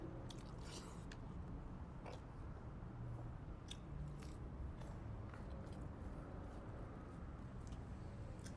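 Biryani being chewed and bitten close up, with soft wet squishing and occasional crunchy bites in a steady rhythm over a constant low background hum; no talking.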